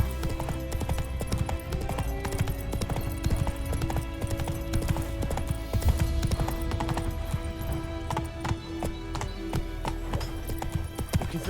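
Horse hooves galloping in The Witcher 3, a steady, continuous clip-clop rhythm running throughout with occasional whinnies over a dense game soundscape of music and ambience.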